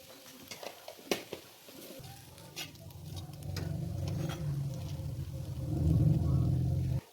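Kurdai crisps and onion are stirred in a pan, a few sharp clicks of a spoon against metal followed by a steady low sizzle that swells toward the end, with someone speaking over it.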